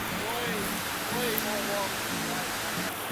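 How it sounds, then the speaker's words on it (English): A small waterfall and stream on the Appalachian Trail rush in a steady, dense hiss of flowing water close by, with a voice speaking over it throughout. "stop and take a picture of this waterfall here, this little stream right here"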